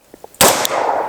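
One sharp, loud shot from a 6.5-inch 10mm Glock 40 with a KKM barrel firing Federal HST 200-grain rounds, a close crack followed by a ringing, lingering tail outdoors.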